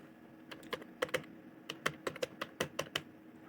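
Quick taps on a mobile phone's on-screen keypad as an Aadhaar number is entered, a dozen or so sharp clicks in uneven bursts, close and fairly quiet, with no one talking.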